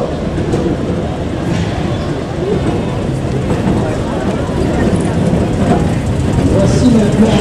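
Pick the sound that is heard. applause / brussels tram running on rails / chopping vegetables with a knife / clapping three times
brussels tram running on rails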